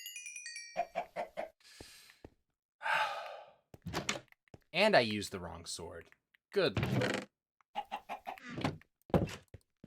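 Chicken clucking in Minecraft survival gameplay, short high clucks in brief bursts between a player's sighs and spoken comments, close and clear.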